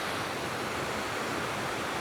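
White rapids rushing over rocks in an autumn stream, a steady broadband roar of churning water, continuous and fairly close, with no pauses or voices.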